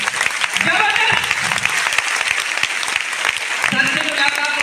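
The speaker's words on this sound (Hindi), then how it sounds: "जबरदस्त तालियां होनी चाहिए।" A crowd at a DXN event breaks into vigorous, close applause with sharp individual claps, while voices call out beneath it and the clapping swells again toward the end.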